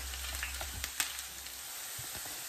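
Potatoes fry in a pan with a steady, soft sizzle, broken by scattered little crackles and pops. No one talks over it.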